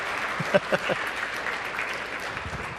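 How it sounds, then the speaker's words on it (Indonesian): A church congregation claps during a Christmas-season service, the applause steady but moderate and fairly distant, with a few louder claps standing out early on. "Beri tepuk tangan lagi buat Tuhan."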